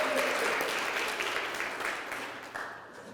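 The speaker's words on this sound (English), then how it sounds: "Let's get a round of applause for Stephanie for putting this together." Applause for Stephanie at a coaching session, dense and continuous, fills the room for a few seconds and tapers slightly toward the end.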